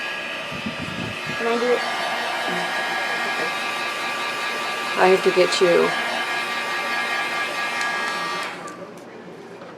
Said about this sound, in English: the inks with the heat gun